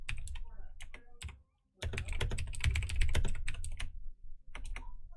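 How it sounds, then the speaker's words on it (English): Rapid clacking keystrokes on a loud computer keyboard while playing Dota 2, dense and close, with a brief pause near the middle before the typing resumes. "You guys can hear my keyboard's clack so loud too"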